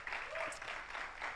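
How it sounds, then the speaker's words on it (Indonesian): Church congregation clapping in praise during a worship service, steady dense applause filling the short moment with a brief vocal cry rising over it. "Yang percaya berikan tepuk tangan bagi Tuhan"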